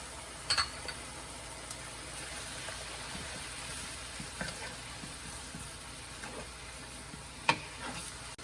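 Pork stir-frying in a pan for pad kee mao (drunken noodles), a steady low sizzle broken by a few sharp scrapes or clinks of a utensil, fairly quiet and without talk.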